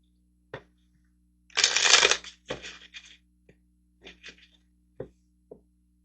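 An affirmation card deck is shuffled up close: a dense riffle burst, followed by a few shorter shuffles and scattered soft card taps and snaps, with no voices.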